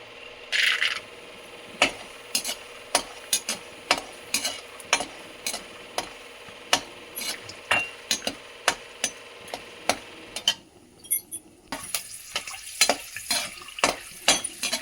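Almonds are roasted and stirred in a pan for harira, with a spoon scraping and knocking against the pan in an uneven, repeated rhythm over a faint sizzle. The sound is close and clear, with no speech.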